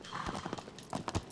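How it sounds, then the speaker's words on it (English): In Shadow of the Colossus, a horse's hooves clip-clop in a quick, uneven gallop, close and fairly loud, a short burst of hoofbeats with no voices over it. "Come on, horse."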